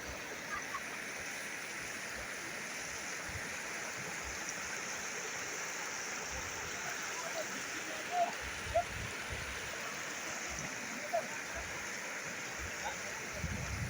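Floodwater from a cloudburst rushes continuously through overflowing streams and flooded fields around Mankurwadi in Beed, a broad steady roar at moderate distance with a few faint clicks and thumps nearby.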